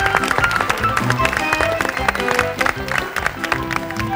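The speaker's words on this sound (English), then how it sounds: "Give him a big round of applause" An audience at a live magic show applauds a volunteer with busy, uneven clapping mixed with music and stage sounds, and the level rises and dips through the stretch.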